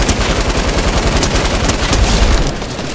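Sustained automatic gunfire from Fortnite, rapid and loud, with dense bursts of rounds rattling continuously for several seconds and no pauses or voices.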